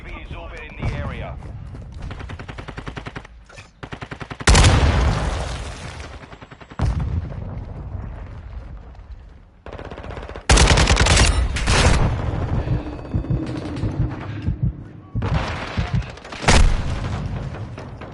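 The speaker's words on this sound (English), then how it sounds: "Friendly cruise missile inbound." A cruise missile strike and gunfire in Modern Warfare 2: loud booming blasts and rattling bursts of shots come in heavy waves, with radio voices speaking between them.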